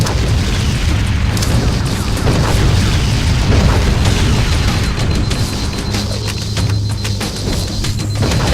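Heavy, sustained explosions from fusion reactors in Halo CE, a dense rumbling roar of booms and bursts that runs loud and continuous throughout, with a low droning hum underneath.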